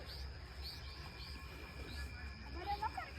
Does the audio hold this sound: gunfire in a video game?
no